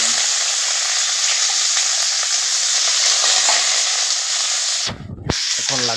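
Spicy onions frying in hot oil in a pan give off a loud, steady hiss and crackle, briefly interrupted by a short clatter.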